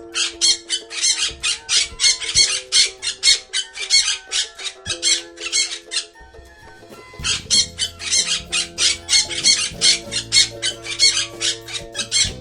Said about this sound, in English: parrot, parrot माने तोता parrot